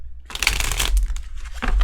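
A deck of tarot cards is shuffled by hand in short crisp riffles and rustles, close to the microphone, with a low steady hum underneath and no speech.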